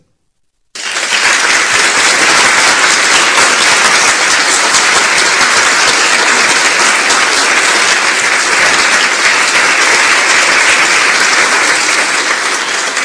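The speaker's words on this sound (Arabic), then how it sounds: "أعطينا تصفيق" A studio audience on an Algerian television programme claps in sustained, dense applause that starts abruptly and holds steady and loud to the end, with no talk over it.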